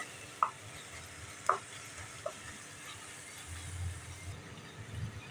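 Spicy egg masala fries in oil in a kadai with a low, faint sizzle, broken by a few sharp taps of a spoon against the pan early on.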